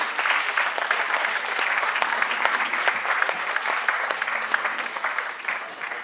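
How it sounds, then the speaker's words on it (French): Audience applause at a youth arts festival magic show: steady clapping from a crowd, moderately loud and continuous for about six seconds without a break. "on peut l'applaudir"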